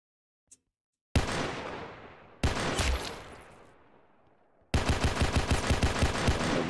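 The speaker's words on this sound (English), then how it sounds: "Bro, who's shooting?" Gunfire in a Roblox video game: bursts of loud, close shots after a brief tick, then a rapid, rhythmic stream of automatic fire toward the end, with no talking.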